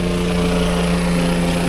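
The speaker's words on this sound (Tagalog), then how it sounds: "Helicopter." A helicopter passes overhead above a fishpond during a storm, a loud steady droning whir with a constant low hum, no talking.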